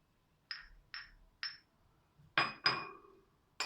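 Glass clinks from a latte glass set out while making a moka pot latte: three light, evenly spaced taps, then two louder, brighter clinks close by, with no talking.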